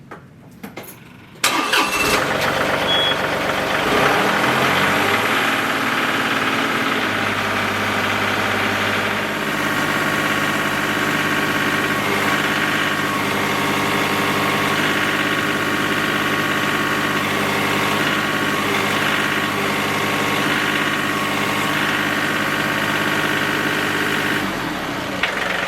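A tractor engine cranks over and starts, then runs steadily at about 2,000 RPM with a loud, continuous mid-pitched drone and vibration, no voices.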